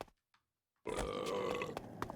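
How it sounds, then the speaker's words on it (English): A cartoonish graffiti burp from the video game Tony Hawk's Underground 2 erupts after a brief silence, one loud, sustained belch lasting over a second with a few clicks and blips over it. "to deface these idols, so we're just gonna burp on them with our graffiti burp"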